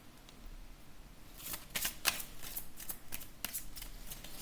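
Tarot cards being shuffled and drawn, with a flurry of crisp, close riffling snaps and slaps in the middle, then a few isolated card flicks against a quiet room.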